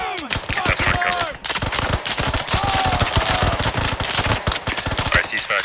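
Rapid, close gunfire cracks out during a basic combat training cover and concealment drill. Dense, sharp shots from several weapons overlap continuously, with voices partly under the shooting.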